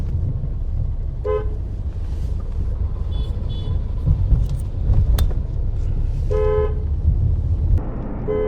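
A taxi crawls through a congested Udaipur city traffic jam, with a loud engine rumble throughout and several short car-horn toots from nearby vehicles.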